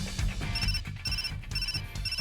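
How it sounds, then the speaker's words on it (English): A phone ringtone in the visual novel game Cafe Enchante chimes in a steady repeating pattern of bright tones over a looping musical background, clear and fairly loud with no talking. "I heard a ringtone chiming from Rindo's coat pocket."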